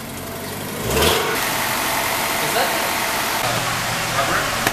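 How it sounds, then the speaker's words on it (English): A Honda car engine that runs badly idles too high, a close, steady mid-pitched hum with a brief rise near the start, and someone talks over it. "Right now it's actually idling above what it should be idling at."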